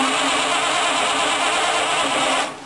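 A ratrod engine running steadily just after a cold start, a loud even close-up hum with a rough mechanical edge that cuts away abruptly in the final moments.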